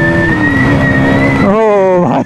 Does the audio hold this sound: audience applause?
no